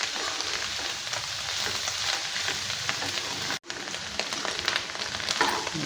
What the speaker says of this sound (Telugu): చూశారు కదండి, శనగపప్పు వేసిన తర్వాత 2 నిమిషాలు వేగింది